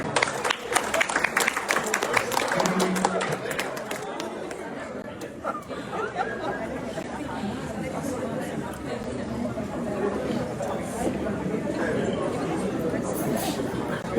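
A crowd at a school reunion gathering applauds, with clapping strongest at the start and then blending into steady, loud crowd chatter and babble that carries on throughout.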